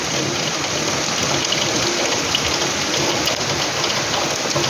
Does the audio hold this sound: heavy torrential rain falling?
yes